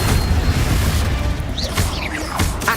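A Confringo fire spell bursts in Hogwarts Legacy, a loud booming crash with rumbling debris and a few whooshing magical tones layered over dense game noise.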